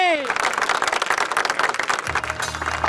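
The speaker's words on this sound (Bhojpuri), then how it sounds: "बच्चा लोग बजावत ताली।" Applause from a group of children at a street performance, a steady patter of clapping throughout, with a low drone entering near the end.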